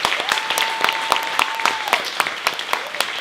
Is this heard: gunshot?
no